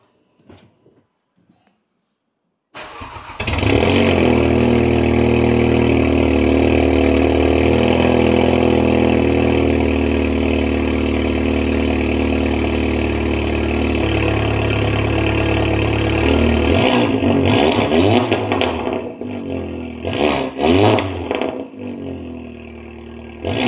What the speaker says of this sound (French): je vais démarrer le véhicule